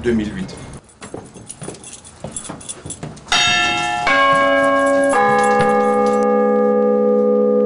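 The carillon bells of the Saint-Jean collegiate church in Liège are heard up close from the bell chamber. After some clanking and mechanical knocking, three loud bell strikes follow one another, each with a long, rich, ringing decay that overlaps the next.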